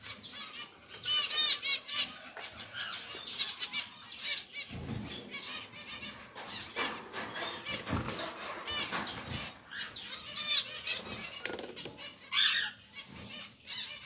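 A pied zebra finch pair flutters and flaps inside a cage, with bursts of wingbeats, rattling and faint chirps scattered irregularly, close but quiet.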